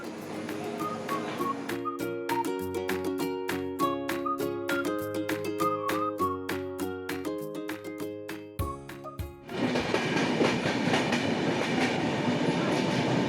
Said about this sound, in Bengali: শিয়ালদা স্টেশনের 14 নম্বর প্ল্যাটফর্ম থেকে 8টা বেজে 31 মিনিটে ছেড়ে দিল 13149 কাঞ্চনকন্যা এক্সপ্রেস।